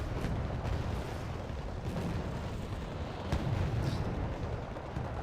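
Artillery fire striking a target in the war strategy game Wargame Red Dragon gives a constant roaring, rumbling barrage with heavy low end and scattered dull booms, steady and loud throughout with no clear gaps.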